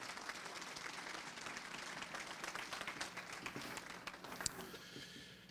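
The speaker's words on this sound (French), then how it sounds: "Une bonne main d'applaudissements." Sustained applause from a crowd at a college graduation ceremony, steady dense clapping that holds for several seconds and then begins to thin out near the end.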